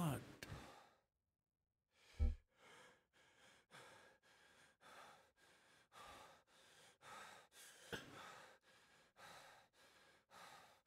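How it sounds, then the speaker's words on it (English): A male video game character breathes hard and heavily in a horror game, a long run of loud, rhythmic panting breaths with a sharp sigh near the start. "Why is he breathing so hard?"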